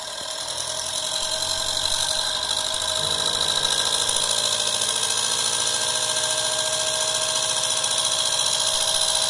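A homemade Adams motor with a commutator runs with a steady high whine and a dense buzzing of sparks, growing a little louder after a few seconds, then holding steady.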